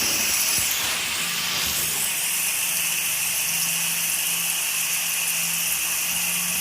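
French fries frying in hot oil on a home stove, a steady loud sizzling hiss with bubbling crackle that holds constant throughout.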